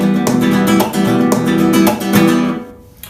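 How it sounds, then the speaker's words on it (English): Rhythmic acoustic guitar playing a rumba flamenco strumming pattern, quick and percussive with accented chord hits, played alone and close, ending with a short fading ring. "it's a strumming pattern that I rarely see done correctly."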